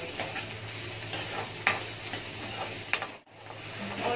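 Ingredient browning to light golden in a pan for Indian-style masala pasta, a soft steady sizzle broken by several stirring scrapes and clinks of a utensil against the pan.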